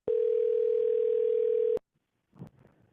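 An outgoing telephone call gives a single steady, loud ringing tone lasting under two seconds, which stops abruptly with a click and is followed by a faint, brief rustle.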